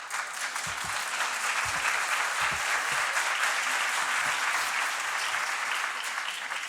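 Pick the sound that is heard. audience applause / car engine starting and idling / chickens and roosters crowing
audience applause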